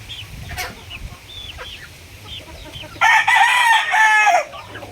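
A six-month-old Bordogoy-bloodline gamefowl rooster lets out a loud, close crow near the end, preceded by softer clucks and scattered bird calls.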